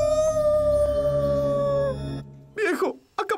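A cartoon character transformed into a dog lets out a long, sustained howl with a steady tone, then breaks into sharper yelping and whimpering cries, loud and close.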